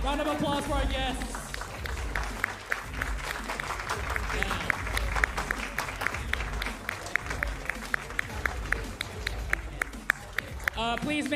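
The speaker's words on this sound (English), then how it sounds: "Special round of applause for our guests." Audience at a freestyle football showcase applauding guest performers with steady rhythmic clapping, while a voice talks over it early on.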